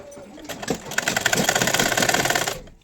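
A sewing machine runs while stitching a kurti: a short whirring burst that speeds up into a dense, rapid rattle for about two seconds, then stops, heard close and alone.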